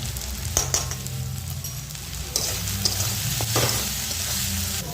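Tomato, green chilli and mashed paneer fry in a pan with a steady close sizzle, broken by occasional scrapes and clinks as the mixture is stirred.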